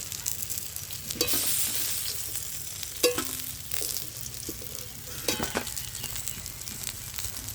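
Pieces of rui fish frying in hot oil, a continuous crackling sizzle close by with several sharp spatula knocks and scrapes spread through.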